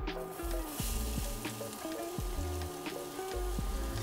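Onions sauté in oil in a pot with a dense, continuous sizzle close by. A low rhythmic tonal pattern runs underneath, and no one talks.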